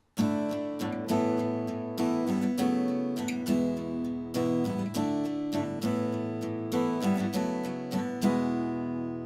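Acoustic guitar strummed steadily through a repeating chord progression, bright rhythmic strokes ringing close and loud with no voices.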